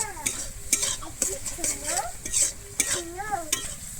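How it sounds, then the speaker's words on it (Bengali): Fried spice masala with kasuri methi is stirred firmly in a pan for a Bengali steamed egg curry. Repeated close spoon scrapes and knocks keep a regular rhythm over a constant low frying sizzle. "আমি এরপরে একটু দিয়ে দিচ্ছি কস্তুরি মেথি দিয়ে আমি আবারও খুব ভালোভাবে কিন্তু এখানে মিশিয়ে নিচ্ছি"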